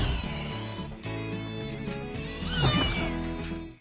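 A cartoon cat meows loudly and alone in a drawn-out, wavering call that rises toward the end, with a squealing, strained peak before cutting off.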